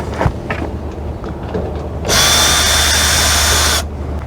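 A power drill backing a screw out of an Ariston dryer panel, one loud, steady whine lasting under two seconds after quieter handling clatter.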